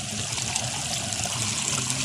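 Water supply flowing into a tilapia pond, a steady close trickling and rushing stream running continuously without pause.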